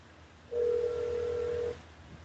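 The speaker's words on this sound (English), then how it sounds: "Oh, it's my phone." A phone goes off in a grow room, giving one steady electronic tone that lasts a little over a second. It is loud and close against a quiet background.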